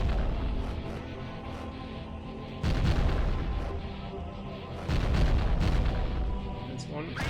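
An underwater target blowing up in the AquaNox video game, heavy deep booms that roll into a sustained low rumble, with a second blast swelling later, loud and dense under game noise.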